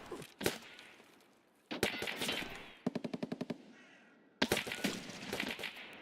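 Bolt-action rifle shots in the video game Tarkov, loud sharp cracks spaced apart, with a rapid string of clicking impacts in the middle and long ringing tails after each blast.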